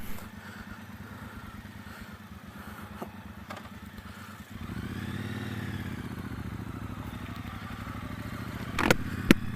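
A 2017 Triumph Bobber motorcycle idles with a lumpy, pulsing beat, then pulls away as the engine note rises into a steady riding drone, with a few sharp clicks near the end.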